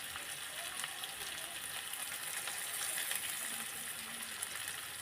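Ground cumin paste hits sautéed potatoes in a pan, setting off a soft, continuous sizzle with faint stirring underneath, quiet and even throughout.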